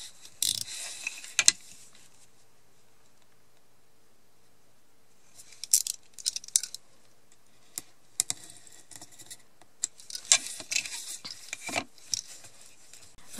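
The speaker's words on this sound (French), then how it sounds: "je vais prendre le cutter, la règle, et je vais découper l'intérieur." Craft knife drawn along a ruler to cut out the inside of a card window, giving quiet scattered scraping and clicking strokes in short bursts with near-silent pauses between them.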